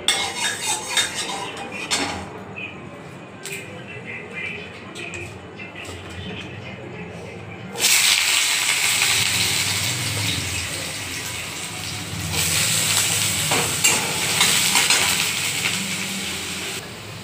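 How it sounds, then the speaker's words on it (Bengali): Potatoes frying in a pan at home, loud hissing sizzle surging up partway through and staying busy, with utensil clinks and scraping, a quieter, clattering stretch at the start. "এবার আমি আলুটা ভেজে নেব"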